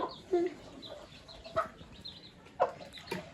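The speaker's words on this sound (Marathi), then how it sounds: "हे कोंबडीचंच पिल्लू आहे." A hen with chicks makes a few soft, scattered clucks and peeps at close range, faint against low background noise.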